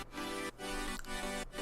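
Synth chords played with sidechain compression pump rhythmically, the sound ducking sharply about every half second and then swelling back up, a regular dipping pulse heard alone.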